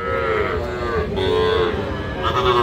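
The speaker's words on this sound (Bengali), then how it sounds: "জাত মানে হবে শাহিওয়াল ষাঁড় বাছুর" A Sahiwal bull calf about five to six months old at a cattle market, giving one long, loud, close moo that swells and falls over the background crowd noise.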